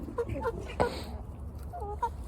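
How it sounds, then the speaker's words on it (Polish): Hens and roosters cluck softly in short, scattered calls, fairly faint against a low background murmur. "dwie kurki i cztery kogutki"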